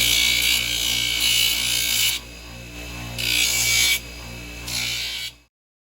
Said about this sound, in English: It's on the grinder.